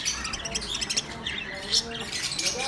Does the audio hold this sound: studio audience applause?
no